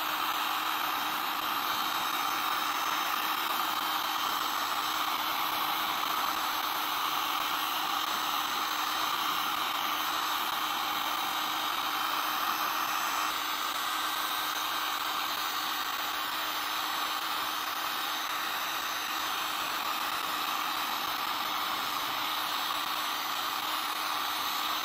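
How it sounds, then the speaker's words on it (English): A heat gun blowing on old, faded plastic during a restoration, a loud steady hot-air roar that holds unchanged for the whole stretch with no talk over it. "We'll get the heat gun and heat it up."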